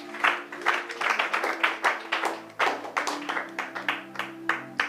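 A church congregation claps in a steady rhythmic beat, fairly close and continuous over sustained tonal music.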